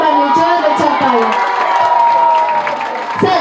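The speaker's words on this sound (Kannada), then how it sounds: "ಸೊ ಅದಕ್ಕೆ ಬರಲಿ ಜೋರಾದ ಚಪ್ಪಾಳೆ" A crowd at a college film promotion event cheers and whoops loudly, with children's shouts and scattered clapping mixed into a dense, continuous roar.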